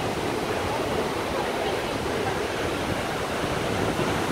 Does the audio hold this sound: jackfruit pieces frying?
no